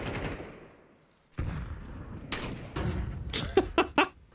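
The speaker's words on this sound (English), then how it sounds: "So the guy with the shotgun shot at nothing." Shotgun fire in an online multiplayer game: after a short lull, a run of loud, sharp blasts clusters near the end, several quick cracks with thuds between, with no one talking.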